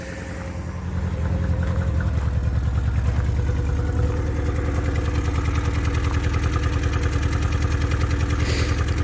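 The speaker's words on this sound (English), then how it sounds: "It definitely sounds like it's missing on a cylinder." A 1985 Chrysler New Yorker engine idles steadily after sitting unused for months, its loud, close, uneven rumble lumpy and stumbling from a misfiring cylinder, with a faint clatter and no talking.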